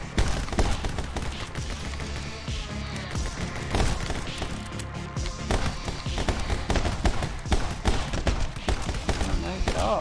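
Shotgun fire in the video game My Friend Pedro: rapid, punchy blasts scattered through busy, loud action sounds over nearly ten seconds.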